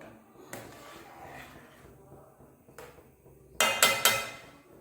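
A metal lid is set onto a cooking pot on the stove, with a single soft clink early on and then a quick cluster of three sharp metallic clatters near the end, fairly close.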